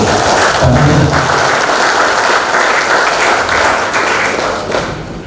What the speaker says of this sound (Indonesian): Kita tepuk tangan untuk itu